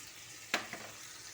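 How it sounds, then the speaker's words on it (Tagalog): Eggplant and minced pork stirred in a hot pan, with a steady low sizzle and one sharp scrape of the utensil, followed by a fainter second scrape. "hinalo ko na yung talong"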